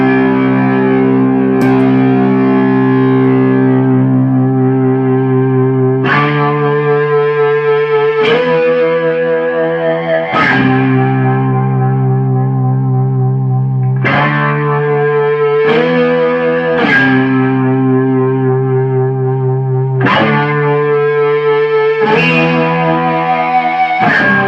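An electric guitar strums distorted chords through a Joyo JF10 Dyna Compressor pedal and an amp, loud and sustained, with changes every couple of seconds and a ringing tail under each chord.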